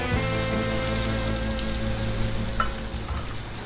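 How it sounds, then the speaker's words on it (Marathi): Rawas fish goes into a pan of frying masala and sizzles loudly and continuously, with dense crackling throughout and no voices. "आता आपण रावस ॲड करूया, फिश ॲड करूया."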